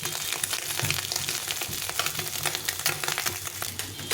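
Hot oil sizzles and crackles loudly in a wok during frying for a fish curry, a dense, continuous spattering with a few stirring bumps. It sounds close and there is no talk.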